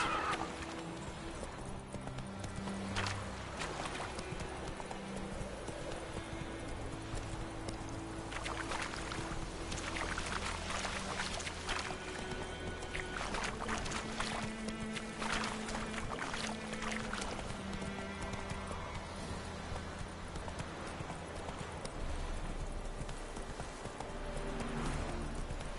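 Hooves of Roach, a horse in The Witcher 3 video game, galloping in a steady clip-clop rhythm over game music and ambient sound, moderately loud throughout.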